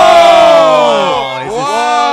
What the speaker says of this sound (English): earning him a loud cheer from the crowd